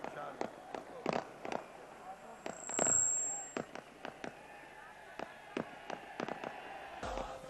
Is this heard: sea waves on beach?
no